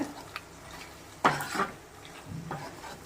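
A spoon stirs white sauce pasta in a pan with soft scraping and a few clinks against the metal, quiet and close with no voices.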